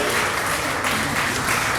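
An audience at a college elocution competition applauds a student speaker, a thick, sustained roar of clapping that stays loud and even throughout.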